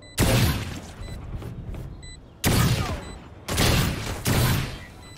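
Gunfire in a tactical shooter video game with a spike plant: four loud, close bursts of rapid shots with short tails, separated by quieter gaps holding faint game beeps, no talk heard.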